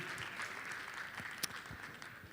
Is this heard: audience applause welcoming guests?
yes